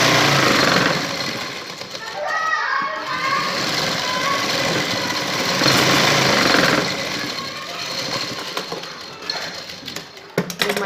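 A sewing machine runs loud and steady, stitching along the edge of a shalwar sleeve, with a continuous mechanical whir that barely changes throughout.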